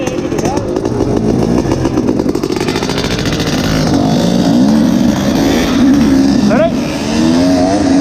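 A 1991 Honda CR500 dirt bike revs hard at Port Gawler, its loud two-stroke engine rising and falling in sharp bursts alongside other engines, with people talking over it.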